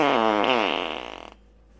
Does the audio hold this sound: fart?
yes